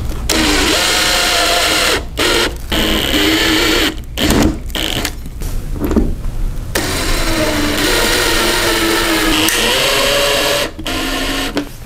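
A power drill whirs loudly in long bursts with brief stops, its pitch shifting under load as a self-drilling plastic screw-type drywall anchor is driven in.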